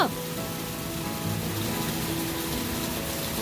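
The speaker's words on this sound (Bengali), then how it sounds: "ওই দেখো আমগুলোর ওপরে এখন বৃষ্টিগুলো পড়ছে" First monsoon rain falls on mango trees in a home garden, a steady, dense hiss of drops that continues evenly throughout.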